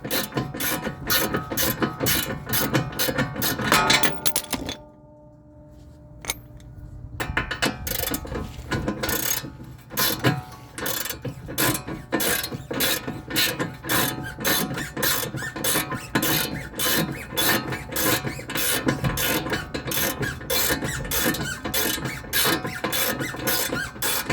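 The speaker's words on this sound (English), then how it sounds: "then you can finish taking off your bolt" Rapid ratcheting clicks from a ratchet wrench removing a tie-rod bolt on a 2005 Ford Mustang, steady fast mechanical clatter, close and loud, with a brief pause before the cranking resumes.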